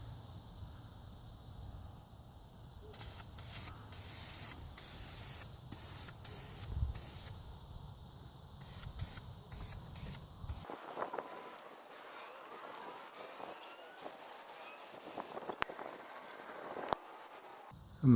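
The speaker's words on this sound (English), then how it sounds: "spray the primer on it" Primer is sprayed from an aerosol can onto a wrought iron gate in repeated hissing bursts of varying length, close to the microphone, with wind noise and brief rustling between passes.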